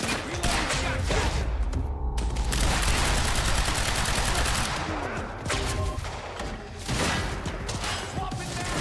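Shotgun fire in the video game Quantum Break, loud repeated blasts and gunfire bursts throughout a dense combat soundscape with crashes and thumps, continuous over several seconds.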